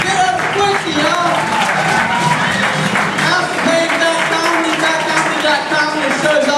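A comedy club audience at the Relapse Theater applauds a stand-up comic at the end of his set. Loud, dense clapping and crowd noise fill the whole stretch, with voices and tonal sound mixed in.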